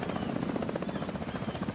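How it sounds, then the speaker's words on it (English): Helicopter in the video game The Division 2, a loud, close, rapid rotor chop thudding steadily throughout the short stretch with no talking. "I think the helicopter's gonna fly back here."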